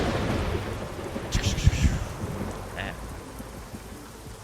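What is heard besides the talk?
thunder during a rainstorm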